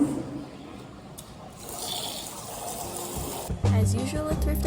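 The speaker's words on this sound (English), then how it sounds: "I went back to my room to soak the thrifted jean jacket that I needed to wash" Water sloshes and splashes softly as a thrifted jean jacket soaks in a basin, faint and close, with a louder, clattering burst of movement near the end.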